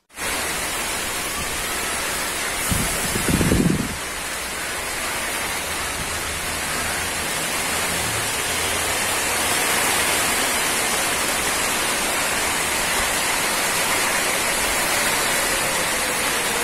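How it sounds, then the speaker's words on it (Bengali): Heavy rain comes down outdoors at a rural home with a chicken farm, a loud, unbroken broadband wash that holds steady throughout, broken by one brief low thump near the start. "বৃষ্টি শুরু হয়ে গেল"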